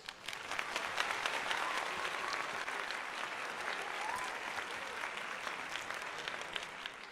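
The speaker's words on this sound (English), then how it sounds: "We'll give him a round of applause." A crowd at a Phillies–Nationals baseball game applauds for several seconds, a broad, steady wash of clapping that sounds fairly distant and holds at an even level throughout.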